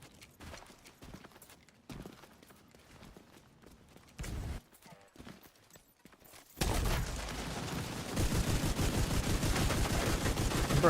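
Pistol and gunfire in The Division 2 video game: scattered sharp shots over quiet stretches, then a loud, dense barrage of rapid fire in the last few seconds, no talk.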